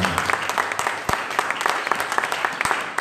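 A church congregation applauding, with dense steady clapping from many hands that fills the room for a few seconds, with a voice faintly beneath it.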